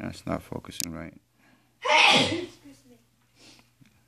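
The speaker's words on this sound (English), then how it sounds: "Someone just sneezed." A single sharp sneeze from a woman in a room, heard at middle distance right after someone speaks briefly nearby, followed by quiet breathing.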